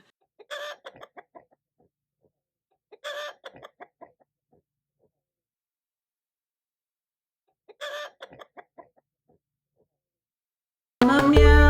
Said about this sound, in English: I'm a loud rooster.